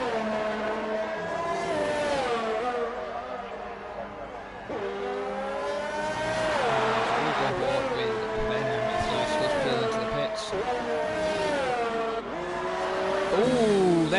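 An F1 race car heard onboard around the Baku street circuit in a racing video game, its high-pitched engine climbing and dropping through gear shifts and braking zones, loud and continuous under running commentary.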